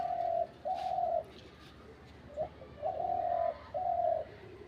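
A pet pigeon or dove perched in a tree coos in several drawn-out phrases with short pauses between them, clear and moderately close over a quiet outdoor background.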